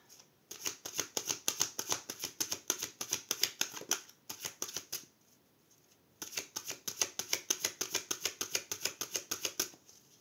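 A deck of cards is riffled and shuffled in two rapid bursts of crisp, rhythmic flutter, close and fairly quiet, separated by a short pause.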